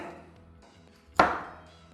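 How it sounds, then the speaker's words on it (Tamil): A knife chopping nuts into small pieces on a board, heard as one sharp, close chop that rings out briefly over quiet background noise. "இதை இந்த மாதிரி குட்டி குட்டி பீசஸாக கட் பண்ணிக்கோங்க"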